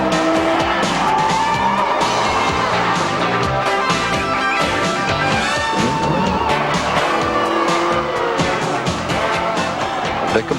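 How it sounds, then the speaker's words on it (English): A composite plastic and Kevlar Ferrari road car roars hard under acceleration and corners with loud, sustained tire squeal, the engine note climbing and falling continuously and up close. "The composite plastic and Kevlar Ferrari accelerates from 0 to 125 miles an hour in 12 seconds, and it's got the brakes and cornering ability to match"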